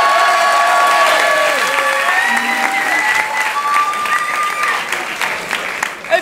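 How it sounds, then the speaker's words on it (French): An improv show audience applauds a musician with loud, dense clapping that starts at full strength and holds steady for several seconds before tapering slightly, with a few voices and whoops mixed in. "On peut applaudir très fort Antoine."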